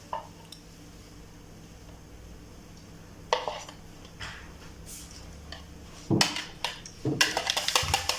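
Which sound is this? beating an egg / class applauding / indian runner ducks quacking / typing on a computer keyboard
beating an egg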